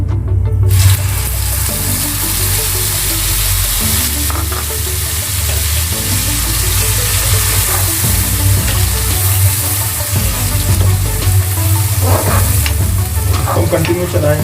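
A ginger, garlic and chili paste fries with cumin in hot oil in a pan, sizzling steadily and loudly up close while a spoon stirs and scrapes through it now and then.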